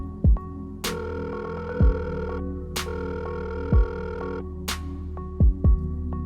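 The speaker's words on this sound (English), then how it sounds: "She immediately called the number." A phone call being placed: a loud beeping tone repeats in three long bursts, with short low thumps between them, heard alone with no voices.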